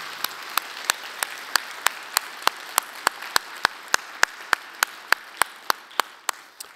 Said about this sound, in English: Can we applaud this morning?